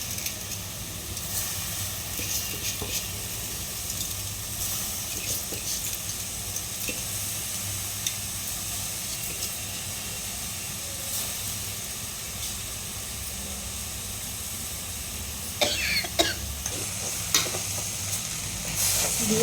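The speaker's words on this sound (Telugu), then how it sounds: "బియ్యం వేసుకొని ఇట్లా ఫ్రై చేసుకోవాలి" Soaked rice, tossed with homemade garam masala, fries in hot oil in a pan for gongura rice, giving a steady broadband sizzle with faint stirring scrapes and a few sharper clinks toward the end.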